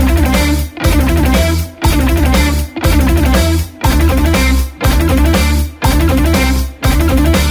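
Rapid, loud picked 16th-note triplets on a single guitar string at 120 BPM, played in repeated fast bursts separated by brief pauses, roughly one burst per second.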